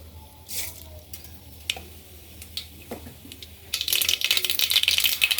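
Mustard seeds with cinnamon, bay leaf, cloves and peppercorns crackle in hot oil for tuvar dal, starting as sparse, scattered pops and then bursting into dense, rapid sizzling and spluttering near the end.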